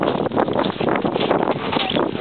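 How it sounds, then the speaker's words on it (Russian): Steady wind buffeting the microphone, a constant broad rushing roar with gusty fluctuations throughout, loud and close, no voices. "Поднялся ветер."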